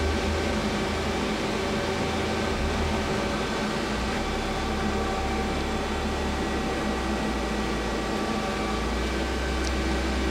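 Y-axis traverse on a Feeler HT 30Y CNC turning center, giving a constant droning whir with a steady low rumble and thin motor whine, unbroken and near, no voices present.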